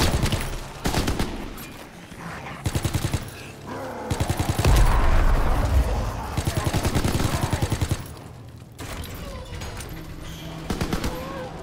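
Rapid bursts of automatic gunfire rattle out repeatedly in the World War II Zombies video game, with short volleys separated by brief pauses amid game sound effects.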